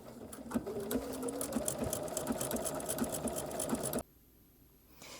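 A sewing machine runs a decorative stitch with metallic thread, a rapid even needle chatter with a rhythmic mechanical hum for about four seconds, then stops abruptly, leaving near silence.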